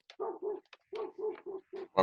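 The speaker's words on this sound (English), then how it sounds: "I prefer Coco over John's barking" A dog barks during an online trivia night, a rapid, close series of short, evenly spaced barks ending in a louder one.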